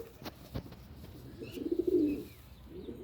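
A flying pigeon at a rooftop pigeon-keeping gathering coos in a short rolling burst, preceded by a few faint taps and light rustles, fairly quiet and alone.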